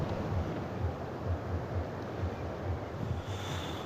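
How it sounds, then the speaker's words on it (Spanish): A large river rushing far below a rural Armenian monastery gives a continuous broad roar, steady and unbroken, with faint low pulses underneath and no speech. "Se oye el río de abajo. Sí, se oye como un caudal muy grande."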